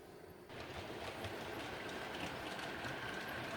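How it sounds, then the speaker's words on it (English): Model railway coke train hauled by a pair of Class 20 locomotives running along the up slow line on a layout, a steady close rolling rumble with faint clicking that swells in after a quiet start and continues alone. "Here we see the pair of Class 20s with the coke train taking the up slow"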